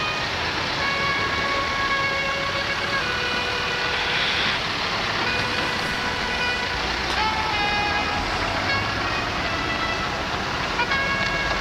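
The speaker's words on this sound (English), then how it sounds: "That was a motor bus." A motor bus passes along a busy street, its engine rumble folded into steady traffic noise, with faint horn-like tones and distant music from street buskers.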